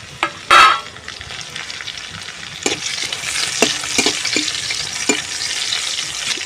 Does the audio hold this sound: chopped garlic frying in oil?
yes